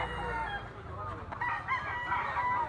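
Rooster crowing, a fighting cock, heard fairly faint and slightly distant over low background murmur, a single drawn-out call.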